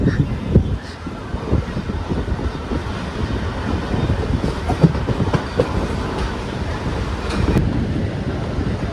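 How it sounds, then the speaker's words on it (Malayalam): A Kanniyakumari–Kollam MEMU train runs on its rails, giving a steady loud rumble with dense clickety-clack beats and some wind buffeting. No one speaks. "മെമു ഈ ഒരു ട്രെയിൻ സെറ്റ് ആയതുകൊണ്ട് സ്പീഡ് പെട്ടെന്ന് കയറും."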